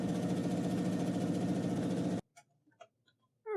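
A sewing machine runs steadily for about two seconds while stitching fabric for a Santa sack, a close, even motor hum with a fast rhythmic needle beat, then stops abruptly, leaving a few faint taps and handling noises.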